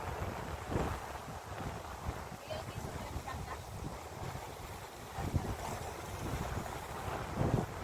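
Strong gusts of wind buffet the microphone outdoors by the sea at Real, Quezon, a steady rushing roar with louder blasts, faint voices underneath.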